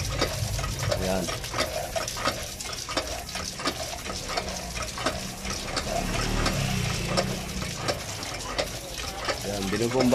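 A manual hand pump draws water from a newly made DIY water supply, still clearing sand and mud from below, with steady repeated strokes and splashing water close by throughout.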